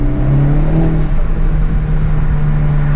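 A Hyundai Veloster N with an SXTH Element intake revs up loudly from the cabin, a steady engine drone and rising harmonic tone that settles into a sustained hum, heard up close.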